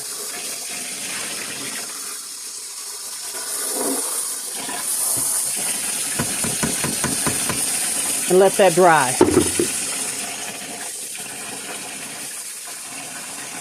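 Tap water runs to rinse plant roots, with a faint steady trickle that swells into a louder, closer gush and splashing midway before easing off. A person speaks briefly.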